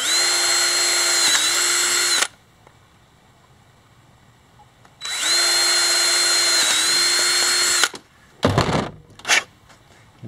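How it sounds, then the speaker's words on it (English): A power drill bores holes for a solar wire connection repair, two loud sustained whining bursts separated by a quiet pause, followed by a few short clattering handling noises. "So let's just drill some holes through here"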